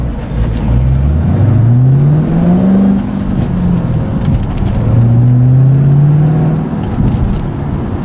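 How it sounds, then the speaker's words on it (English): A manual transmission car downshifts to first at a stop sign and then pulls away, its engine droning loudly inside the cabin, rising in pitch through two acceleration pulls with a dip between them, with no talking. "So coming to a stop sign again, I'm just going to downshift to first, keep my foot on the clutch, then I'm going to take off again."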